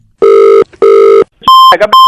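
A telephone ringback tone sounds in two long, loud, evenly spaced bursts after a call is redialed, followed by a short electronic tone and a brief garbled click of the line connecting.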